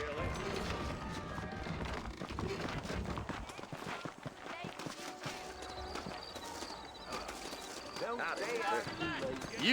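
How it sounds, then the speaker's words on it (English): Horse hooves clip-clop in the Red Dead Redemption video game, steady rhythmic clopping of a horse on the move, mixed with game music and sound effects throughout, with speech over the top. "I got the horses saddled up and ready out front."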